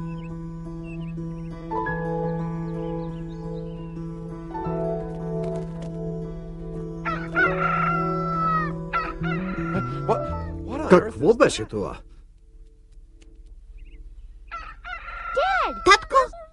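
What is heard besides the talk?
rooster crowing on a roof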